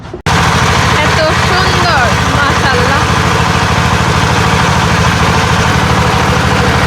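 A loud, steady motor drone with a deep rumbling hum runs throughout, like a boat engine at close range, while a person talks over it, aboard a boat at Sada Pathor in Sylhet.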